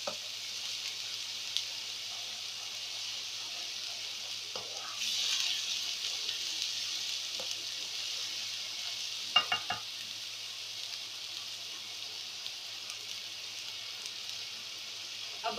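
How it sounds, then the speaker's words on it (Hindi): Onion paste fries in oil for a Guwar phalli salan: a steady, even sizzle runs throughout at moderate level, broken by a few soft stirring scrapes and clicks near the middle. Nobody speaks. "पेस्ट को अच्छी तरीके से हम तेल के अंदर भूनेंगे ताकि प्याज का कच्चापन खत्म हो जाए"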